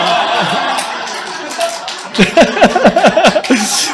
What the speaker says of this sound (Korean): 왜 딸 엄마들은 박수를 치고 난리요?